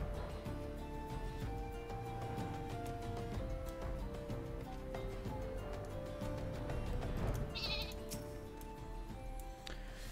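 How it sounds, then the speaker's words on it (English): A sheep in Final Fantasy 14 bleats several times over layered game music, the calls clear but set against the steady background score. "Sheep"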